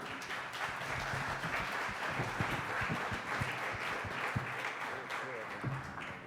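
A live competition audience applauds, with dense, sustained clapping filling the room at steady loudness over several seconds, joined by some cheering voices.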